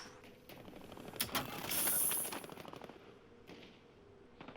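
Rapid automatic bursts from a PPSh submachine gun in Call of Duty Warzone, a loud sustained volley in the middle with shorter clattering shots before and after, alongside mechanical rattles.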